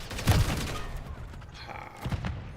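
Frag grenade explosion in Call of Duty Warzone: a heavy booming blast near the start, followed by a second thud about two seconds later, set against constant game ambience.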